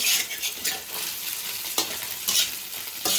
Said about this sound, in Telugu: బాయిల్డ్ చికెన్ వేసి బాగా కలుపుకోవాలి